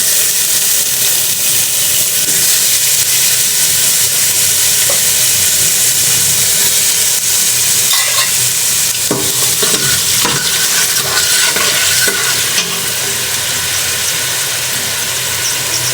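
Onions being added to hot oil in a pan while cooking tilapia fish curry, a loud continuous sizzle and hiss with occasional scraping from stirring, close by and steady throughout.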